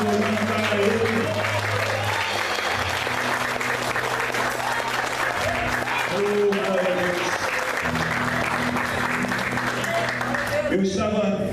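Sustained applause from a church congregation, dense clapping from many hands over steady sustained organ or keyboard chords and a voice, continuing without a break for the whole stretch.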